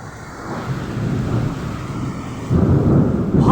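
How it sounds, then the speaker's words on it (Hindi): A severe thunderstorm with lightning in Firozabad district, India, steady heavy rain and low rumbling thunder that swells, then a louder roll of thunder breaks in near the end. "बहुत ज्यादा तूफान आ रहा है, बिजली गिर रही है।"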